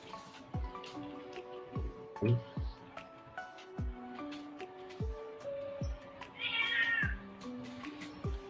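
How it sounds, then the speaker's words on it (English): A cat meows several times, fairly faint and in the background, behind a person talking in a quiet room. "You guys have a cat?"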